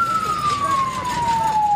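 An ambulance siren wails in a steady descending tone during an evacuation of a head-injured bus crash victim on the Pantura road in Subang, West Java, loud and close over traffic noise.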